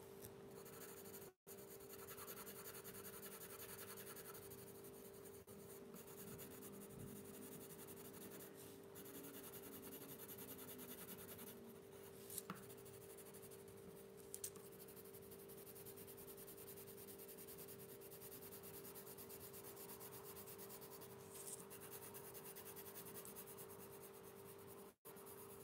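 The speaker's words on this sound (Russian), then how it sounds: "Закрашивать я буду цветными карандашами и начну розовым цветом" Coloured pencils scratch steadily across paper while shading a pink bow on a drawing of an owl, a continuous soft rubbing close up with only brief pauses and no talk.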